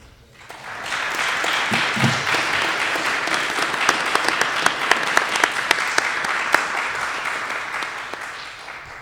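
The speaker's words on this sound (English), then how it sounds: "I want to give them a big round of applause for their" A big round of applause for the speakers at a University of Maryland arts and humanities spring plenary swells quickly from near silence into a full, sustained clapping from a large audience, with a few sharper individual claps standing out.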